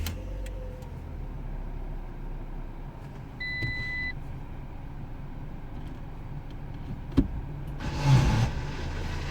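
A Fiat Punto Dualogic with a faulty gearbox is started: a short electronic beep tone sounds first, then after a quiet stretch the engine cranks with a brief whirring burst and catches.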